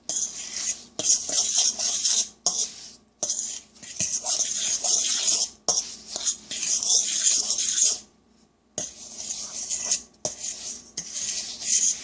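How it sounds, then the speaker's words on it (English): Za'atar bread ingredients being mixed in a bowl, a steady scraping and clinking stir that runs in bursts with brief pauses, fairly close and loud, with no talking. "Now I'm going to mix well again"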